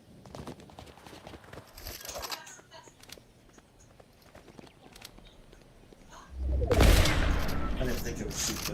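Gunfire in Fortnite erupts as a loud burst of rapid shots near the end, following quieter scattered in-game noises and movement, with a voice faintly present in the background.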